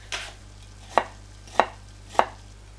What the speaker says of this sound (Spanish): Picamos en juliana la cebolla. Cortamos en rodajas el puerro.